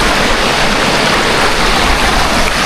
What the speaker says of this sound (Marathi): सुंदर पाण्याचा खळखळाचा आवाज